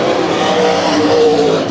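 Race cars in a heat race at the Bud Nationals roar together at close range, a dense, loud, continuous engine howl with a slight rising whine as they run side by side.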